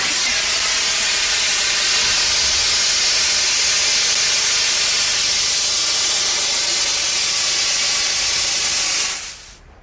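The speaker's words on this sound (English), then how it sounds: "If I open the valve, it'll shoot out of this pipe and evaporate very rapidly back to a gas" Liquid refrigerant jets out of a pipe through an opened valve with a loud, continuous, close hiss that holds steady for several seconds, then cuts off sharply near the end.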